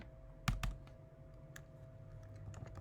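Code typed on a computer keyboard, a few sharp keystrokes up close followed by lighter scattered taps over a low steady hum.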